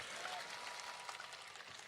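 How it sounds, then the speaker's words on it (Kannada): Audience at a live comedy show clapping in a brief, dense burst of applause, steady throughout and heard from a distance at low volume. "ಓ ಚಪ್ಪಾಳೆ ಇಷ್ಟೇನಾ"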